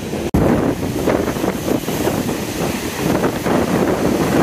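Strong wind roars across the microphone while heavy, foaming ocean surf pounds the rocky north coast of Tenerife, loud and close, with a brief dropout near the start.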